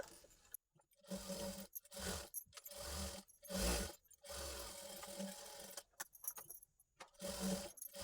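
Sewing machine stitching a single-dart lehenga blouse: short close bursts of rapid mechanical stitching separated by brief pauses, fairly quiet, with no talking.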